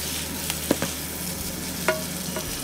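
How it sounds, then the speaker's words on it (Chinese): Beef sliced for twice-cooked-style stir-fry with scallions and garlic sprouts tossed over high heat in a wok, a steady loud sizzle broken by a few clanks of the spatula against the pan. "大火再翻炒两下"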